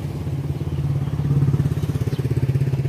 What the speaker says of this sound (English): both are riding on a tricycle